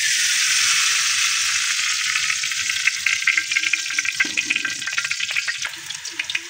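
Oil sizzling and crackling in a frying pan (kawali) on a home stove, a steady broadband hiss that turns into denser popping spatter toward the end, close and fairly loud with no talk.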